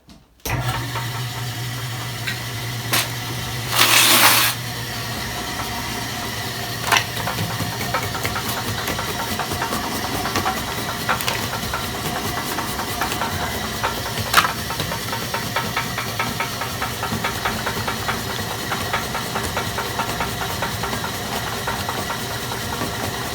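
A homemade motor-driven jaw crusher starts up and runs with a steady mechanical drone and hum, broken by occasional knocks and clicks, plus a brief burst of hiss near the start; no one speaks.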